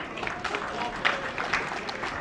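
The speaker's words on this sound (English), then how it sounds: "A round of applause for Mr. Tom Brown" An event crowd applauds the president of TGB Promotions, steady clapping and murmur filling the room at moderate volume, with a few louder claps and cheers rising briefly.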